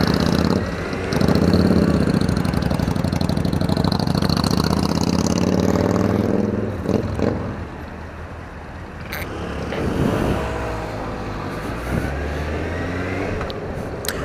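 A hog motorcycle engine idles with a deep, loud, steady throb, dips briefly, then rises into several revs with climbing pitch, close and unaccompanied by talk.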